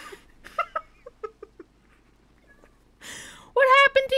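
Minecraft cat meowing in the game at night, a few soft mews at first, then a louder, clearer cat cry near the end, with game sounds around it.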